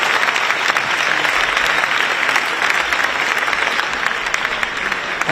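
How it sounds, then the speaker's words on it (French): Loud, steady applause from a large crowd at a Paris 2024 Olympics one-year countdown event fills the whole stretch, a dense wash of clapping hands with no pause. "Grand applaudissement."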